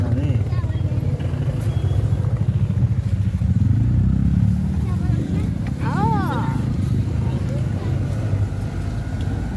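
A motorcycle rides along a winding mountain road in Sikkim, its engine a steady loud low drone with wind rumble throughout, while people talk over it.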